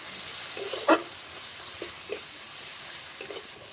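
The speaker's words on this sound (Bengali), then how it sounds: "কাশ্মীরি লঙ্কার গুঁড়োটা দিয়ে একটু ভালো করে নেড়ে চেড়ে নিচ্ছি।" Kashmiri chili powder being stirred into onion and tomato frying in a pan, a soft steady sizzle with a few faint spoon taps, quiet and close.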